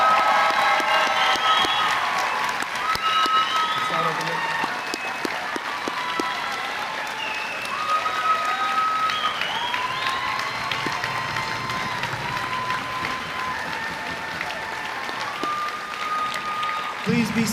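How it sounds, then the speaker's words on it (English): A crowd at a high school graduation ceremony applauds the graduating class of 2025, a dense, sustained wash of clapping and cheering that holds steady for the whole stretch, with voices calling out through it. "Please give them a large round of applause."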